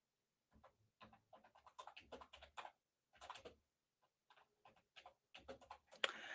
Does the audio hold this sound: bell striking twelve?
no